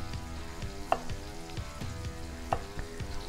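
Chicken pieces searing in a hot pan with a steady crackling sizzle, close and moderately loud, broken by a few knocks and stirring clinks; no one speaks.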